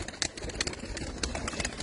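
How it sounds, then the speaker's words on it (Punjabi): A flock of pigeons kept at a village home coos, with several soft overlapping calls and occasional sharper flutters close by, and no one speaking. "ਕਬੂਤਰ ਤਾਂ ਬਹੁਤ ਨੇ ਬਾਈ ਹੁਣਾਂ ਦੇ ਕੋਲ"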